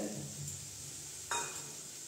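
A fried egg is stirred into Maggi noodles in a pan, giving a faint sizzle and a soft scrape, with one sharper clink of utensil on pan partway through.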